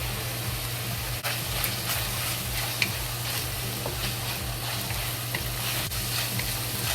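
Ground meat frying in oil in a pan with ginger and scallion, a steady close sizzle with occasional stirring scrapes and light pops, continuous throughout.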